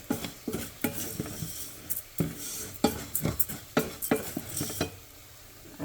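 A hamburger patty sizzles in a pan while it is chopped up for taco stuffing. A utensil scrapes and taps against the pan again and again at an irregular pace, with a steady frying hiss underneath.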